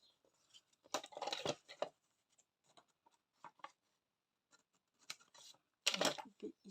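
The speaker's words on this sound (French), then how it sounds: "On va couper histoire que ça ne gêne pas." Scissors cut through craft material for a goodies pouch in a series of quick, close snips and rustles, with short pauses between bursts and a sharper cluster of cuts near the end.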